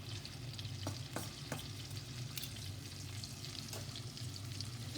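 Salmon pan-fries in a skillet with a steady, close sizzle and soft crackling pops throughout, no voices.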